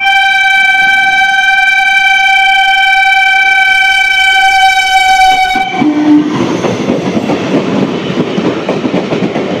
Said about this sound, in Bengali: এটাও 12 বগির ট্রেন